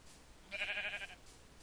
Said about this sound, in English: Hello, Mr. Sheep.